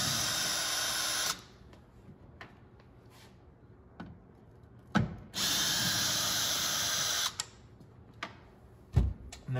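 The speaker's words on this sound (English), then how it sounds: "Once you get that off, we can see our Torx bits. We have one here and one down here. So I'll go ahead and take those off." A power drill backs Torx screws out of a GMC Yukon tail light in two sustained whirring bursts, each ending in clicks and a sharp clunk, with quiet pauses between them.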